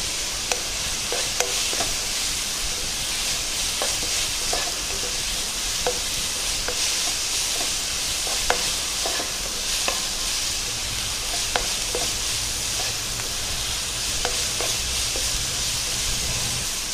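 Onions fry and get stirred in a pan with a little salt, a steady hiss of sizzling broken by frequent sharp scrapes and clicks of the spoon against the metal, close and continuous with no voices.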